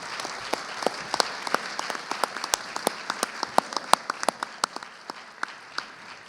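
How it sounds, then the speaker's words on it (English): Audience applause at a graduation awards ceremony, steady clapping from a hall of people with sharp individual claps standing out, continuous and moderately loud, no talking. "I hope that you will applaud them for the contribution that they have made to"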